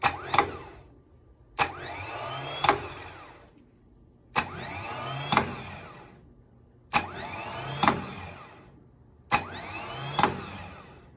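A bus starter motor, energised by a jumper wire on the solenoid exciter terminal with the battery connected, cranks in five separate close bursts. Each burst opens with a sharp click and whirs for about two seconds before stopping.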